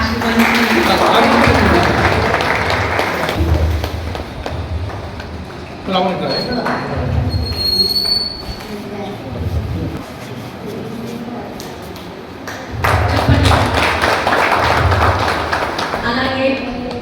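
An audience claps together at a ward community felicitation gathering in Jogipet, with dense bursts of applause rising and falling amid loud room noise and voices.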